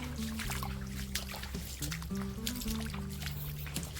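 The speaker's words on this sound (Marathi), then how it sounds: "थंडगार पाण्यात पायरीत चालायला खूप मज्जा येते" Feet wading through cold water on farm field steps, with soft trickling and sloshing splashes close by, over a steady low hum and faint voices in the background.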